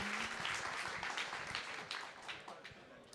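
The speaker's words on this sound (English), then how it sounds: "Can you please just give them a little applause?" Audience applause at a computing community night during a security conference, given for the live streaming team; a dense wash of clapping from a crowd, fairly steady then tapering slightly, with faint voices underneath.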